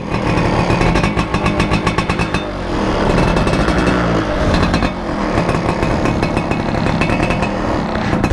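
A 2002 Yamaha F1ZR two-stroke motorcycle engine runs loud and close after being started, revving with a rough, uneven rattling buzz and brief dips in throttle, sounding slightly off.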